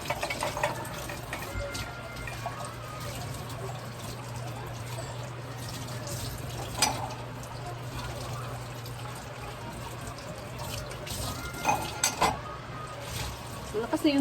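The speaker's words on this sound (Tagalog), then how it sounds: "Malakas na yung tubig ngayon." Tap water runs steadily into a sink while dishes are washed, a constant close trickle and pour with occasional clinks and faint background sounds.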